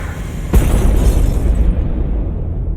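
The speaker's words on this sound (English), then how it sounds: "Some kind of explosion." A video game explosion in Madden 18: one loud, deep boom bursts in sharply and leaves a sustained rumbling roar that lingers and slowly fades.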